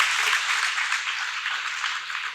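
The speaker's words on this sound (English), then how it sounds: "Julianne, I give her a round of applause." An audience at a summer civics class gives a round of applause, a dense, steady patter of many hands clapping, fairly loud and without talk.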